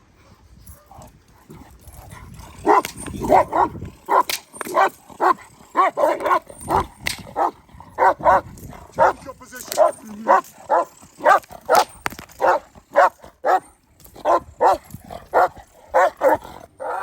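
A Chinese Red dog barks repeatedly during defence training, a steady run of loud, close woofs and yips spaced about half a second apart, with a voice giving brief commands between them.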